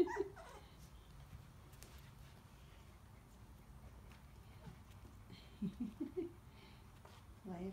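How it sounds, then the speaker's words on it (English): Small Coton de Tulear puppies give soft whimpers and yips, with a short burst of high-pitched cries near the end of the stretch, over a low indoor rumble. "Playful puppies."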